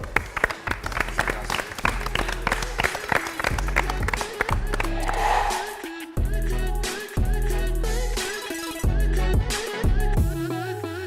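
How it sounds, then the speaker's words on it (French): Players and audience at a televised school quiz match between Lycée moderne Khalil Daloa and Lycée municipal Jacqueville applaud together, the clapping running under loud, rhythmic theme music that stops and starts through the stretch. "On applaudit, on se congratule, serrez-vous la main."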